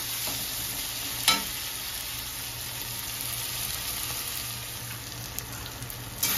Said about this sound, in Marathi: हे टोमॅटो आणि कांदा आपल्याला एकजीव होईपर्यंत परतून घ्यायचा आहे